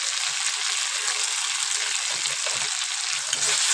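Ginger and garlic frying in a pan for a banana flower curry, giving a dense, even hiss of sizzling oil, close and steady throughout with faint stirring and no talking.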